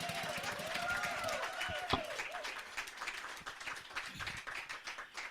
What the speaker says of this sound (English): please a big applause to Anya and our Unity Band.